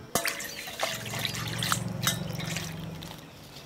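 Water with Dettol solution splashes and trickles over duck eggs being washed, with soft close dribbling, small drips and light handling knocks, fairly quiet.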